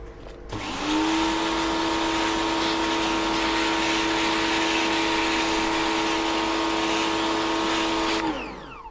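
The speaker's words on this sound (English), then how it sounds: "after a good soak in acid, we're now going to give them a quick rinse off" Water rinses acid-soaked Cornish blue fluorite specimens as a steady, loud hissing spray over a droning motor hum. It starts abruptly, holds evenly for several seconds, then cuts off.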